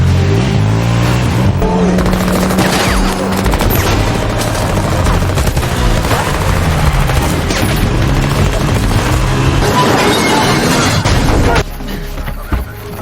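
A motorcycle and car chase in an action film, with loud roaring engines, crashing booms and bursts of gunfire filling the scene before the din drops off near the end.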